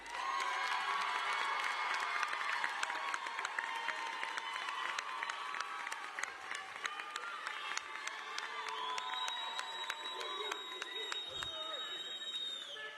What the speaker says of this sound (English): Let's give our seniors another round of applause.